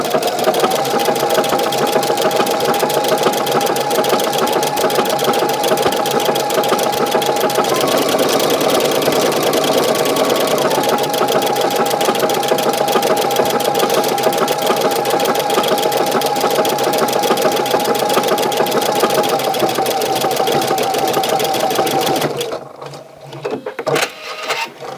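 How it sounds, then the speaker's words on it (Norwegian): A domestic sewing machine runs a programmed buttonhole stitch, a loud, close, continuous mechanical whirr with a slight change in pace midway, ending abruptly before a few clicks near the end. "Nå skal jeg vise bare knapphull nummer 3, for nå er knapphullet programmert i maskinen"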